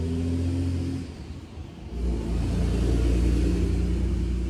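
A diesel engine in a Dodge Durango-era truck with a manual transmission revs up from a steady rumble, dipping briefly before climbing into a louder, sustained low drone, close and alone with no talk.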